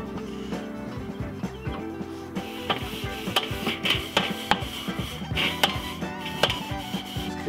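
Metal grates on a Weber kettle grill are scraped and knocked, giving irregular clinks and scrapes at close range over a steady background hum.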